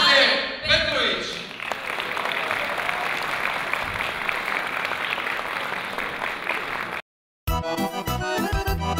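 Festival audience applauding a singer, dense sustained clapping that rises after a brief opening and continues steadily before cutting off abruptly, followed by the start of music.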